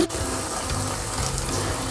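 Water poured into a pan of cashew curry gravy, a steady close gushing splash that starts at once and carries on evenly to the end, with no talking.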